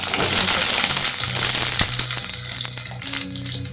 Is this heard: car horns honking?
no